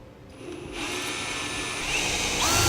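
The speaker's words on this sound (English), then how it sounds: "I'm going to be drilling all the way through the bed, the frame, and the cross members." A power drill whines and grinds steadily, rising slightly in pitch and intensity as it bores through the metal bed, frame and cross members of a 2015 Ram 2500 pickup truck.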